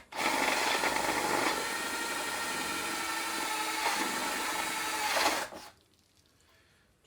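A steady, loud, high-pitched grinding whir of a step drill biting into metal runs for about five seconds, then cuts off abruptly into quiet.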